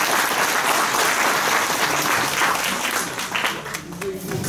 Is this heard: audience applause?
yes